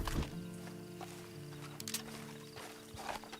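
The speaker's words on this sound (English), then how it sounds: "And you better get on this horse." Horse hooves clip-clop in Red Dead Redemption 2, a steady mid-distance walking rhythm of soft thuds set against a low droning game soundtrack, with a brief whinny-like tone near the start.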